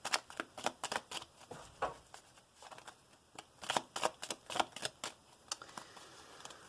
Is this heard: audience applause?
no